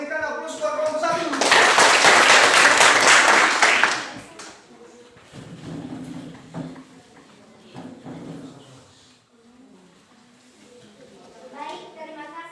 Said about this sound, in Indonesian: Berikan aplaus buat kelompok 1